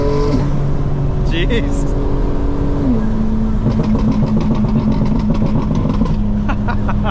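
A tuned 2025 BMW M4 Competition xDrive at speed, its engine droning loudly and steadily while the exhaust pops and crackles in quick bursts. A voice speaks briefly over the engine noise.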